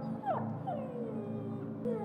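A dog in the video game Dying Light 2 whimpers and whines in a few thin, rising and falling cries over a steady low in-game drone.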